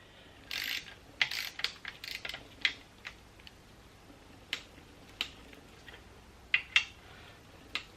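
Close, crisp ratchet clicks in short bursts and scattered single clicks as bolts on an NV4500 transmission are tightened down, with no talk.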